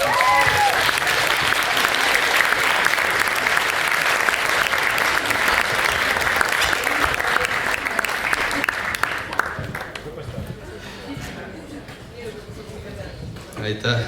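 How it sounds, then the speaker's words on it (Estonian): Loud, dense audience applause fills a venue, holding steady for about nine seconds before thinning into scattered claps and fading, with faint voices near the end. "Aplaus."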